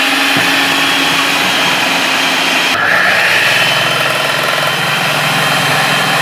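Robot food processor slicing onions, a loud, steady motor drone close by, briefly changing pitch partway through, with someone talking over it.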